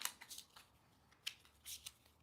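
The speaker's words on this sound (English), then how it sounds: "and then shuffle these up" A deck of cards for a board game is shuffled in a few quick, soft riffling bursts, faint and close, with no talking.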